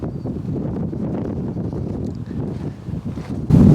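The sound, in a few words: strong wind gusts buffeting the microphone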